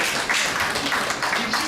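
Members at a girls' school alumni association AGM clap together. A loud, close, dense patter of many hands fills the room without pause.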